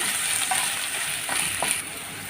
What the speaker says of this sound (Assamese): এতিয়া বিলাহীখিনি দি দিছোঁ।